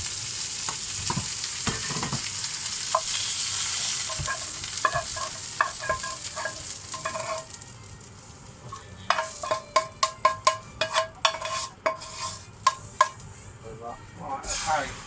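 Food for Korean chicken wings fries in a saucepan with a steady sizzle, joined by scraping stirs and a quick run of metallic utensil clinks toward the end.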